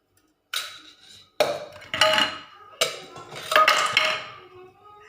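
A sabudana mixture stirred in a pan, several close scraping and clinking strokes of a spoon against the metal in irregular bursts.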